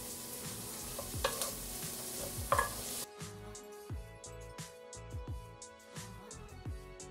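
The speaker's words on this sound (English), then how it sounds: "Then I'm going to add the onions and just saute for a little bit." Onions, ginger and garlic sauté for an Indian-style vegetable soup, a soft sizzle under repeated rhythmic stirring scrapes, quiet and close, the frying fading after a few seconds while the stirring clicks continue.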